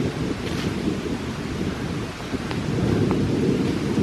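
Outdoor wind in wooded hill country buffets and rumbles against the microphone in a continuous low roar that swells slightly near the end, with no talking.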